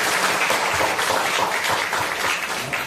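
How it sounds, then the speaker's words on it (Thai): An audience at a Thai fertilizer seminar applauds, a dense, even patter of many hands clapping together at moderate loudness, continuous for a few seconds with no talk over it. "ปรบมือให้สองท่านนี้ด้วยครับ"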